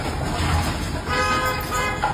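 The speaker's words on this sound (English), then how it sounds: "somebody's honk" Car horn honking on a street during a delivery, a brief toot heard near the middle amid traffic noise and background rumble, moderately loud.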